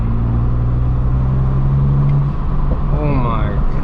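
A BMW 335i with the N54 engine idles with a deep steady rumble, then revs, its turbo spooling up with a rising whine, nearby and loud.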